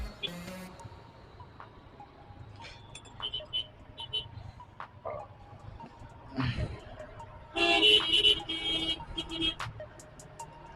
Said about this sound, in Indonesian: Klakson aja guys biar cepat.